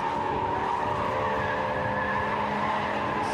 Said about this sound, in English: Wheels squealing in protest as they're loaded up